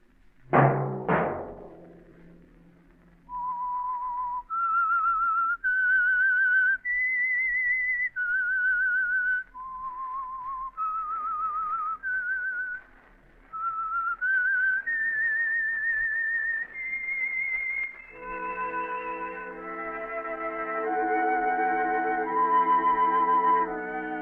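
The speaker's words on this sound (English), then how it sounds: "Let that whistle be your signal for the Signal Oil program, The Whistler" Lone whistled theme tune of the radio program The Whistler, opening with a short burst of noise, then a slow sequence of clear sustained notes rising and falling, ending with a fuller orchestral chord.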